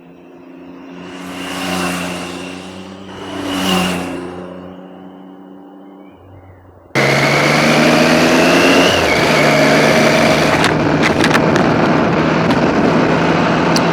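Triumph Street Triple motorcycle engine, first heard rising and falling twice through revs at a distance, then suddenly loud and close with a steady riding drone and wind rush.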